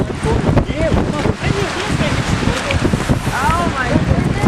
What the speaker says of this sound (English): It is windier than we thought it would be.